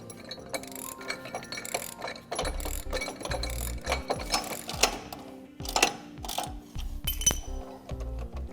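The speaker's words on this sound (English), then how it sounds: "we'll bring in our wrenches and start tightening this dude up" Wrenches ratchet and clink while tightening bolts on a Swagman Traveler XC2 two-bike hitch rack, with rapid bursts of close, metallic ratchet clicks recurring throughout, plus occasional knocks of metal parts.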